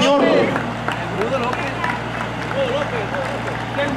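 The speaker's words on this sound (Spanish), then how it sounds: "Fuerte los aplausos, que se escuche bonito." Crowd applause at a ranch horse event for Rancho Los Rosales: scattered clapping from a gathered audience under a loud announcer voice and background music, with the general crowd noise sustained throughout.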